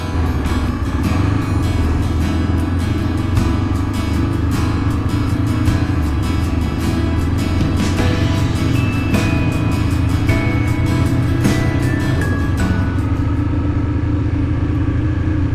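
Trail motorcycle riding on a road toward Gunung Karang in the late afternoon, a loud continuous engine drone mixed with rushing wind noise, close and unbroken for the whole stretch.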